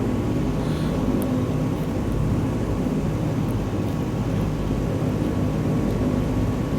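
Steady, dense engine drone of a light airplane in Microsoft Flight Simulator 2020, flying from Glacier Park International toward Spotted Bear, Montana, holding a constant loud roar throughout with no voices.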